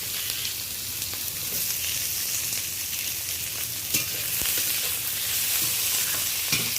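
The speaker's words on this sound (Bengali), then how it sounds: "এই পর্যায়ে আমি কেটে রাখা পেঁয়াজটা দিয়ে দিলাম।" Chopped onion sizzling in hot spice-tempered oil for an egg and pointed gourd curry, a steady close frying hiss broken by occasional scrapes of stirring.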